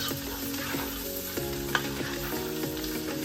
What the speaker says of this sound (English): you want to keep stirring it until the onions soften up